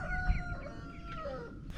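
Meat chickens cluck and call inside a chicken tractor, a close cluster of overlapping, warbling clucks and short squawks that keeps going throughout the moment.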